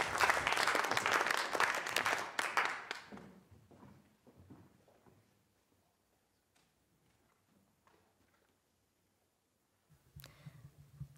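Audience applause at a poetry reading, lively clapping for about three seconds that quickly fades to near silence, followed by faint rustling and a soft thud near the end.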